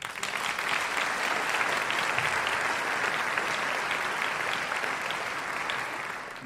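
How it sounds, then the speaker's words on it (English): Audience at a high school senior awards night claps in a steady, even round of applause, a moderately quiet, dense patter of many hands lasting several seconds with no pauses. "Let's give them a round of applause."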